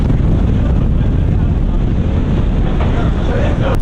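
Strong wind buffets the microphone at a crowded hilltop viewpoint in Colombia, a loud, continuous roaring rush that never lets up.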